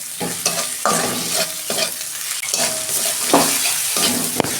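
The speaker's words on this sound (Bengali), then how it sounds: "আমি টমেটো দিচ্ছি।" Tomatoes fry with ginger, cumin and chilli powder in a pan for a vegetable curry, giving a continuous close sizzle broken by regular scraping strokes of a spoon stirring the mixture.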